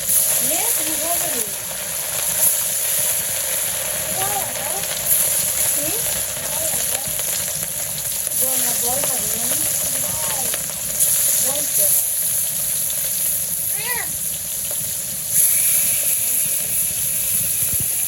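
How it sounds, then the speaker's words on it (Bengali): Fish sizzling in hot oil in a home kitchen, a steady crackling hiss running the whole time while women chat over it and a few louder spits and pops break through. "তেল গরম হয়ে গেছে মাছ দিয়ে দিই"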